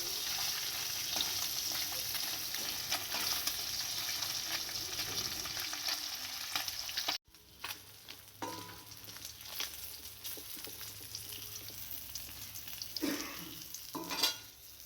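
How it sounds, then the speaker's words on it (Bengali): Small puti fish fry in a pan of oil, a steady loud sizzle filling the whole clip, broken by a brief pause and then a stir, with bursts of crackling as the fish are turned. "পুঁটি মাছ সব ভাজা হয়ে গেছে"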